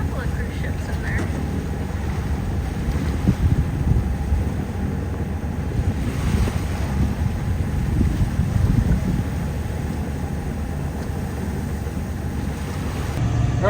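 Sailboat motoring under engine in the Gulf Stream off West Palm Beach at about 9 knots, giving a steady low engine drone mixed with wind noise and water rush, continuous throughout with no talk.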